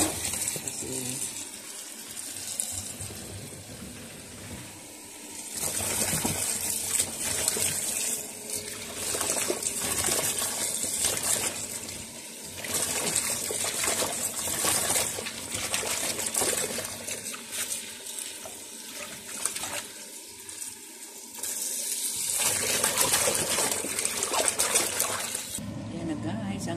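A kitchen tap runs steadily while things are washed before cooking a simple sardine dish, the gushing water swelling and easing, with talking over it.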